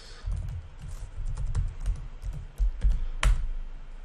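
Typing on a computer keyboard during a coding session, a steady run of soft, close key clicks with a few sharper, louder taps near the end.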